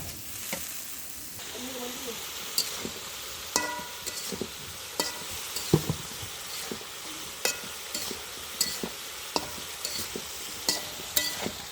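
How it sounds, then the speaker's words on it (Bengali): Spice paste fries in a pan for a home curry, a soft continuous sizzle broken by regular sharp scrapes and taps of a spatula stirring, fairly close and with no talking. "এখানে ভালোভাবে মশলাটা কষিয়ে নিচ্ছি।"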